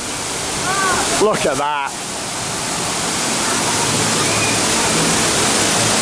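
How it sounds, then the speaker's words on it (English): A large waterfall at the Toverland theme park pours with a constant loud rushing roar, and someone speaks briefly over it near the start. "that is one of the best waterfalls I've ever seen"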